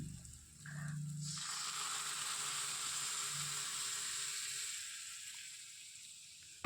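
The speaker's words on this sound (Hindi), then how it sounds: "अब इसमें मैंने जो दाल बना के रखी थी उसको मैं इसमें पलट लूँगी।" Steady, loud sizzling and hissing as cooked dal is poured into a hot pan, continuing for several seconds before easing off slightly.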